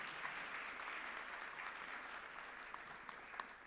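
A church congregation claps hands for Jesus at a live Friday worship service, a steady sustained wash of many hands applauding together with no speech, fairly even in level throughout.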